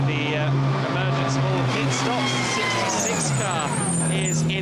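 A GT Open race car rumbles into the pit lane at Spa-Francorchamps, a loud, steady engine drone with shifting pitch sweeps as it moves, under continuous commentary.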